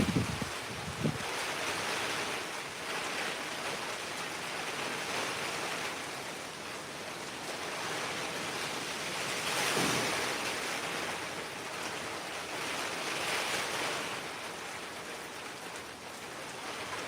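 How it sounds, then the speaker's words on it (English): Wind from Hurricane Milton roaring past the microphone in long rushing gusts that swell and fade, a broad steady wash of noise with stronger bursts around the middle and end, no voices. "Here comes the wind again."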